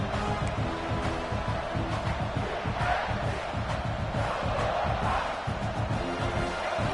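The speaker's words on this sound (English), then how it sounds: "This crowd trying to make life miserable for this offense." Dense college football stadium crowd roaring and shouting steadily throughout, a loud sustained wall of voices with rising swells of cheering and yelling, no commentary over it.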